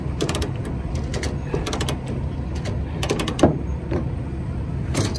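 A chain binder snapped tight on a hotshot truck's load, giving a run of sharp metallic clicks and clanks in irregular bursts over a steady low rumble, with one louder snap near the middle.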